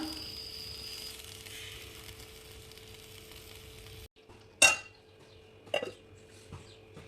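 A lid goes onto a pan of cashew gravy with a sharp metallic clank, then a couple of lighter clinks follow, set against a faint background hum and soft kitchen noise.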